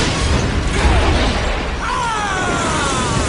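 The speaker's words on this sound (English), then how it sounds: "There's an explosion in The Grinch." Explosion in the live-action film How the Grinch Stole Christmas: a loud, dense roaring blast with debris and rumble sustained for a few seconds, alone without voices.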